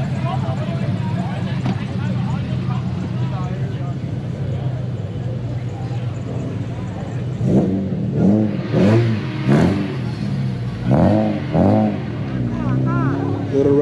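A V6 Honda engine with VTEC revving briefly, a rising and falling growl heard close by while several people talk over it through most of the stretch.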